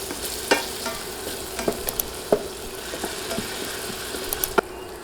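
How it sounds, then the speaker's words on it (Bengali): Garlic and carrot stirred in hot oil over medium heat, a steady soft sizzle broken by repeated sharp scrapes and clinks of a utensil against the pan. "এবার নেড়ে সব কিছু তেলে 1 মিনিটের মতো ভেজে নিব"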